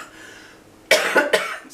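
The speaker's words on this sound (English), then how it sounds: "Oh, God, I can't wait till this cough is gone." A person with a lingering cough gives two or three sharp, close, loud coughs in quick succession after a quiet moment.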